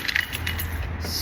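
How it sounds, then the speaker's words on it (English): A bunch of keys jangles and clinks close by as someone digs through them in a garage, a few bright metallic rattles over a steady low background hum. "I have to dig through all my keys here"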